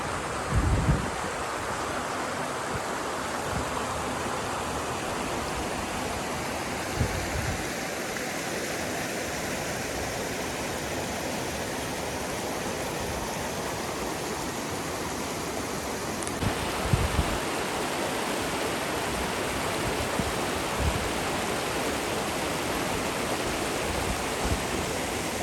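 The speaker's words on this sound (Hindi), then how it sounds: "ये पानी झील उधर से जो बर्फ़ मेल्ट हो रही है ना, झील से निकल के आ रहा है" Snowmelt water flows out of a snowy mountain lake in a steady, broadband rushing wash, loud and continuous throughout, with occasional low thumps.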